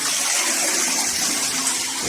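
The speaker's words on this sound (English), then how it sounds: "So let's do a bit of a flush." A toilet with a cistern that keeps running after flushing is flushed, giving a loud, steady rush of gushing water that fills the whole moment without pause.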